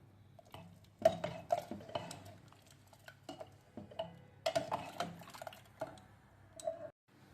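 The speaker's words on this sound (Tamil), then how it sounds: "இந்த நல்லா மத்து வச்சு இல்லை மரக்கண்டு வச்சு நல்லா மசிச்சு விட்ருங்க." Cooked tomatoes for tomato soup are pressed with a wooden masher in a pot, giving soft wet squelches and dull knocks in uneven bursts, close and fairly quiet, with no voices.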